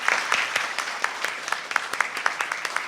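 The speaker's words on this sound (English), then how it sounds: "I think we need to give a whole lot of applause there" An audience at a climate change and disaster risk reduction session claps with distinct, fairly close individual hand claps in a steady flurry, with faint talk underneath.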